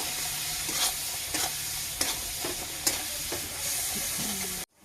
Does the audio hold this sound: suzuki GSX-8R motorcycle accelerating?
no